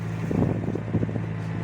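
A small four-wheel-drive tractor, broken down with no working power steering, is towed across a farm. A steady low engine drone runs throughout, with gusty wind buffeting the microphone.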